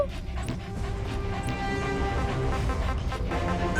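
D-Dog, the dog in Metal Gear Solid V, pants and whimpers close by. Short, breathy pants repeat with thin whines over a steady bed of game ambience, and nobody speaks.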